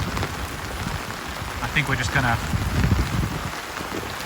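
Heavy rain pours steadily during a storm at a campsite, a dense constant wash close by, with a voice speaking briefly over it partway through.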